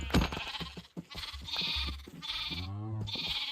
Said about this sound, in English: I'm going after all the adult sheep right now